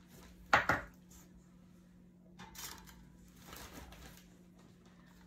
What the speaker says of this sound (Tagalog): ilagay natin siya dito sa ating air fryer. At lagyan natin ang dim sim.